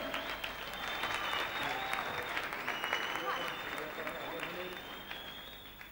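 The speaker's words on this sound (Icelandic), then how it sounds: "Hvar er klappið?" A school song contest crowd in 1990 gives steady, dense applause, with many hands clapping at once in a sustained wash that holds level throughout, moderately loud with a faint tone running through it.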